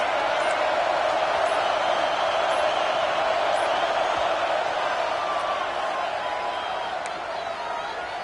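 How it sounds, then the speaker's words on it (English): A large stadium crowd roars in a dense, steady wash of noise during an NCAA 26 college football game featuring Alabama, loud and continuous with no clear individual voices. "This crowd ready to make its presence known."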